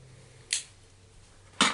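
Two brief, crisp tearing snaps of tape, close up and quiet, separated by about a second of near silence.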